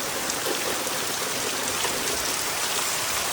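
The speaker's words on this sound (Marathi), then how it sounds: "तर मंडळी पाऊस जोरदार स्टार्ट झालेलो असा आणि इकडे काळोख केलं ना आता पावसान." Heavy rain pours down at a vegetable plot in the Konkan countryside, a dense, loud, constant hiss of water with no voices and no pauses.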